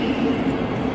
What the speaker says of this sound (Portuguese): Toda hora é trem chegando, trem saindo.